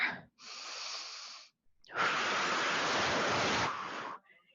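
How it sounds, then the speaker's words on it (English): Slow, deep yoga breaths sound close by: a shorter airy inhale, a pause, then a long, loud, rushing breath lasting about two seconds before it fades into a soft tail. No voices. "Take a nice deep breath here."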